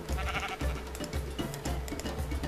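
Several sheep in Minecraft bleat repeatedly over one another, a dense rhythmic chorus of wavering calls at moderate volume.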